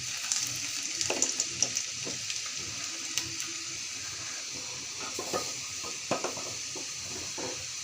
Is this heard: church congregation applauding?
no